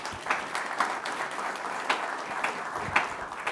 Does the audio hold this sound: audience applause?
yes